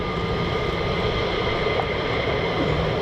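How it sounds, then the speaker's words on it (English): Three F-15E Strike Eagle fighter jets at RAF Lakenheath produce a steady, loud broadband engine roar that holds evenly throughout, with no talk over it. "we got 3 F-15E Strike Eagles"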